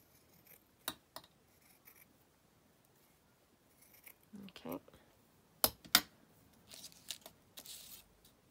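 Scissors snipping paper for a junk journal CD envelope, a few quiet crisp cuts with rustling paper, faint and close, with scattered pauses between snips.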